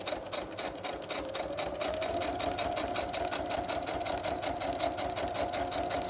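Sewing machine stitching through plastic packaging scraps, a rapid steady mechanical chatter up close, rising slightly in speed and running continuously without talk.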